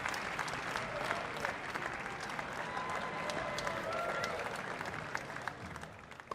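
A tennis crowd at an ATP Champions Tour exhibition in Stockholm applauds a former world number 4, with steady, dense clapping holding through the whole stretch and easing slightly toward the end.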